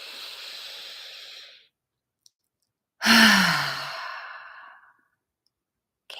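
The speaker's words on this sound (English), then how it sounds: "And let's take one more breath." A person draws a deep breath during a guided relaxation session: a long, soft inhale, a pause, then a louder, close, sighing exhale that trails off.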